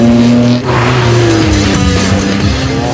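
Peugeot 306 V6 race car driven hard up the Prescott hillclimb, a loud, close engine note holding steady and climbing through the revs, with brief tyre squeal as it takes the corners.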